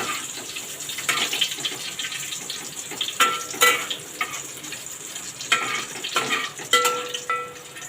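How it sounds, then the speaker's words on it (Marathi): Garlic sautéing in hot oil while tempering rice for phodnicha bhaat, a steady sizzle broken by sharp spatula scrapes and knocks against the pan, close and without speech. "परतूया आपण जोपर्यंत लसूण आपला लाल होत नाही तोपर्यंत."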